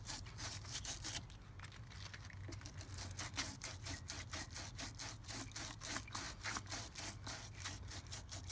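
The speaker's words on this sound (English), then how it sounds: "So we're still going to use this brush to try to clean some of that better." A wire brush scrubs a car battery's positive terminal post in steady, rapid back-and-forth strokes, close and quiet, with a rough scraping rhythm and no talk.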